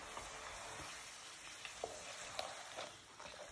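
Puri dough frying in hot oil, a faint, steady sizzle with scattered small pops and crackles throughout, no talking.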